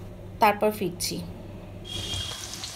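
Potatoes fry in a pan with a soft, steady sizzle that grows clearer in the second half, after someone speaks briefly over it.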